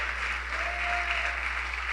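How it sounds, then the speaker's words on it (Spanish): A church congregation claps loudly and steadily for about two seconds, a dense continuous applause filling the room with no voices over it. "Dele fuerte las palmas al Cristo amado."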